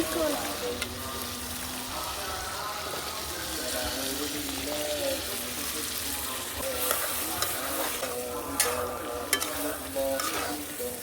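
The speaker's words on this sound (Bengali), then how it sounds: "আমার মশলাটা কষানো হয়ে গেছে দিয়ে দিলাম আলু আলুটা দিয়ে ভালোভাবে একটু কিছুক্ষণ কষাবো" Potatoes sautéed in a cooked-down spice masala in a village kitchen: a dense, steady sizzle under repeated scraping and clinking stirs, loud and close throughout.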